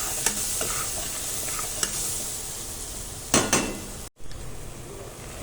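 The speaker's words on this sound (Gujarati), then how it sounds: "થોડું થોડું નાખતું જવાનું છે અને એને રવાને મિક્સ કરતો જવાનો છે" Semolina being stirred in a pan as hot milk is added little by little for sheera, a scraping, sizzling stir with a few sharp utensil clinks and a brief louder burst near the end, no voices.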